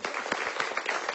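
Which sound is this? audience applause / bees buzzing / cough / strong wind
audience applause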